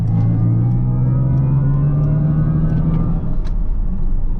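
Cabin sound of a Mercedes-AMG EQS53 electric car on the autobahn, a loud steady synthetic drive tone that rises gradually in pitch over road rumble, with no talking.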